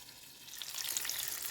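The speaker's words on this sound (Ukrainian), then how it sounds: "Накриваємо кришечкою і десь так півтора хвилини нехай смажиться." Apple pancakes fry in a covered pan over medium-low heat, a soft steady sizzle that builds slightly after the first half second and continues evenly, close and quiet, with no voices.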